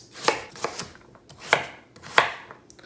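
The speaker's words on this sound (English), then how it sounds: "just a rough chop." A knife roughly chops an unpeeled carrot on a cutting board, giving five or so sharp, close thuds in an uneven rhythm, with no talking.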